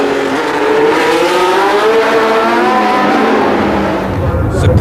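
Ferrari T2 Formula One race car with a transverse engine and transverse gearbox, heard at the Long Beach Grand Prix: a loud, close engine screams steadily at high revs, its pitch climbing and wavering, with nothing else over it.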